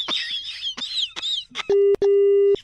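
A telephone line disconnect plays after a call is cut, with a short burst of chirpy electronic beeps followed by two long, loud steady tones separated by a brief gap.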